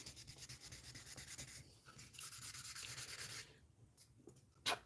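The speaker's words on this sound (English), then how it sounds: "I've already been sanding on this one piece for probably 10 minutes" Sandpaper rubbing steadily on a small plastic part from a 1/60 NeoGrade Sazabi model kit, a soft continuous close scratching with short strokes that eases off near the end before a brief sharp tap.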